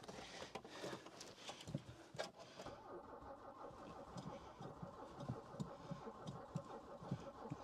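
A car engine cranks on power from a VTOMAN FlashSpeed 1500 battery booster while the fuel pump primes, heard as uneven bursts of starter whirring and sputtering followed by a fainter, steady rumbling patter, with no voices.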